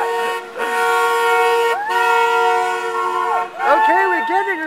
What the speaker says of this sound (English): He can honk as much as his little heart desires.